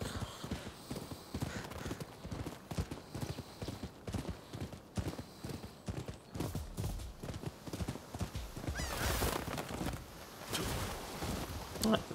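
Rapid rhythmic hoofbeats of a galloping horse, continuous and fairly close, with a brief whinny and some wind in the background, in the video game Rise of the Rōnin.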